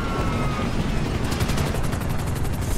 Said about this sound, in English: Fuck off with your choppers!